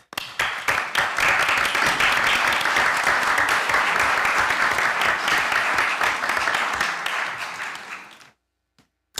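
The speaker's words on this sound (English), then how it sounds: "I think that deserves a round of applause to Ambassador and her team" A round of applause for an ambassador and her team fills an OAS session hall with dense, sustained clapping that holds steady, then fades and stops near the end.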